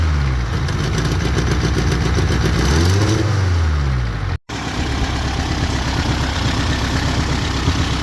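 A 1972 Toyota Corolla TE28 wagon engine idles steadily outdoors in the rain, a loud continuous low rumble with a brief slight rise in pitch partway through and a momentary dropout before the idle resumes.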